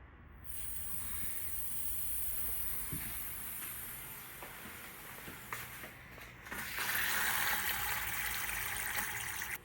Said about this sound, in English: let's turn this water on and get going